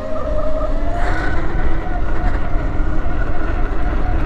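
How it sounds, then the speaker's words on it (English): Belt drive Sur Ron electric dirt bike pulling a wheelie outdoors, a steady rising whine and wind rush close to the microphone with a brief surge partway through, voices nearby. "First time wheeling a belt drive Sur Ron."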